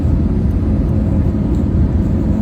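A passenger airliner races along the runway just after landing at Hangzhou airport in China, producing a loud, continuous roar and rumble heard from inside the cabin.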